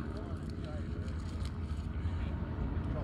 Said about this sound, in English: So this aircraft is a Pitts S1S